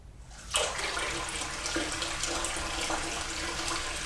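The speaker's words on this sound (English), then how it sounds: "I'm going to use the little shower feature on my sink" Water from a sink's shower sprayer bursts on and pours steadily onto an eggnog crème bath bomb, a broad continuous hiss.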